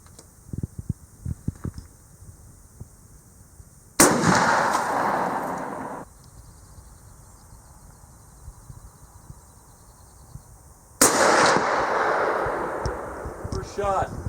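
Two loud, sharp shots ring out from a Winchester 94 lever-action rifle fired outdoors at a target range, spaced several seconds apart, each trailing off into a long echoing rumble over quieter background.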